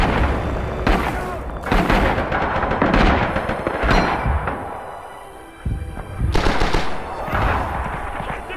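Heavy artillery and gunfire roar through a Rising Storm battle at a phosphate plant, with repeated loud booming blasts and rapid bursts of shots overlapping continuously and close.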